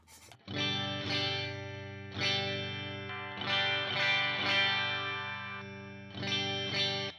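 A Fender Ultra II Stratocaster electric guitar plays sustained clean chords in several separate strums, each ringing out with a warm, full tone, close and alone.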